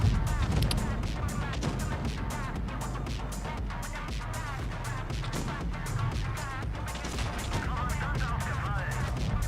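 Dense bursts of video game gunfire from a competitive tournament match crack and boom in rapid succession alongside heavy impacts, with a voice talking over the shooting throughout.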